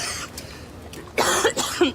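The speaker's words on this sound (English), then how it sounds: "I have had this cough for a while." A person coughs twice in quick succession, a harsh, chesty burst and then a second one, close and loud after a quiet lead-in; the cougher is a long-time smoker with a lingering cough.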